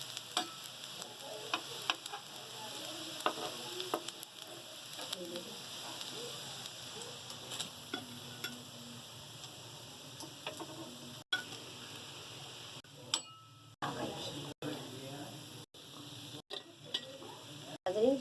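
Shami kebabs frying in a pan give a quiet, continuous sizzle and crackle, with occasional faint taps near the end and no speech over it.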